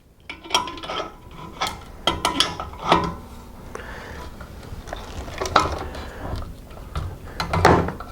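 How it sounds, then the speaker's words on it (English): An adjustable crescent wrench tightens a pressure switch onto a compressor tank, giving a run of close metallic clicks, scrapes and clanks in irregular bursts with no talking. "Next we will use the adjustable crescent wrench"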